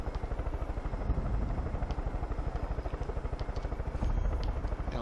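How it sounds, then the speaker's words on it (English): A helicopter flies in the Far Cry 5 video game, its rotor beating in a steady rapid thump over a dense engine roar. The sound is continuous and fairly close throughout. "Makes life way easier to have fly around in a helicopter."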